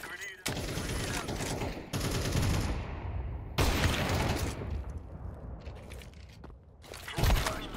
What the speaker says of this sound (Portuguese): O jogo é de tiro.